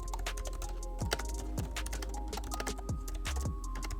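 A Jelly Comb KE68 wireless keyboard with scissor-switch keys clicks steadily under fast typing, up close, with soft, dense key taps over a low background hum and no talking.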